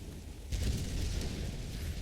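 In-game explosion in the Tomb Raider video game, played on an M5 iPad Pro: a deep rumbling boom swells in at about half a second and keeps roaring at steady loudness to the end, with no talk.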